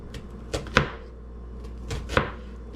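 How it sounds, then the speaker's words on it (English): A knife chopping an onion on a cutting board: a few sharp, separate thuds in two small clusters, close and fairly quiet, with no talking. "While that's going, I'm gonna cut down this onion."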